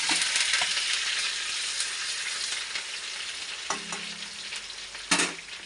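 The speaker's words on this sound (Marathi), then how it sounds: "आता त्याच तेलामध्ये आपल्याला स्टार्टिंग मिरची आणि कढीपत्ता टाकायची आहे।" Green chilies and curry leaves fry in hot oil, giving a loud, steady sizzle up close, with a couple of sharp clinks as the pan is stirred toward the end.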